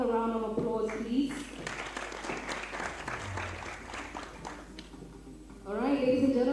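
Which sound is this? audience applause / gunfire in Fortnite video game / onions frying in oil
audience applause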